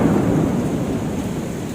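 A thunderstorm with heavy rain, a loud continuous roar of rainfall with deep rumbling thunder underneath, filling the scene without pause.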